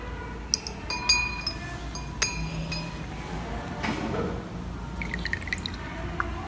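A metal piece is dipped and rinsed in a glass beaker of distilled water during electroplating prep, giving a few light clinks of metal on glass and small drips and splashes over a faint background hum.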